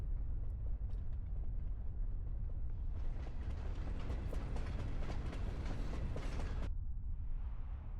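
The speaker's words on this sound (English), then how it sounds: "The flying train." Flying train in the video game Motorslice, a steady low rumbling roll with mechanical clatter that brightens into a louder rushing passage midway, then drops back to a softer hum.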